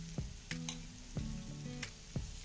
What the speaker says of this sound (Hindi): सबसे पहले मैंने कढ़ाई में 3 टेबलस्पून ऑयल डाला है और अब मैं इसमें ऐड करूँगी चॉप गार्लिक जिंजर 2 टेबलस्पून